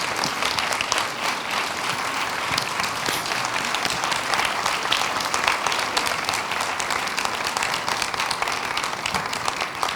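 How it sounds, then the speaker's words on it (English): Steady, sustained applause from a large crowd at a finalists' presentation, many hands clapping at once, loud and continuous throughout with no talking. "let's give them a round of applause"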